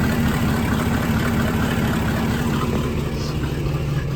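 The engine of a 1989 Jeep Wrangler runs at a steady idle, a loud, continuous low rumble with a constant vibrating drone and no talking.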